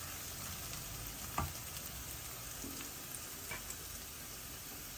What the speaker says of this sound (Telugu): అల్లం వెల్లుల్లిపాయ పేస్ట్ ఉల్లిపాయ పేస్ట్ ఎర్రగా వేగుతుంది